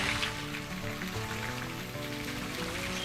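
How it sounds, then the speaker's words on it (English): A garden pond fountain runs steadily, a continuous splashing and trickling wash of water heard close and alone. "Just checking out my fountain."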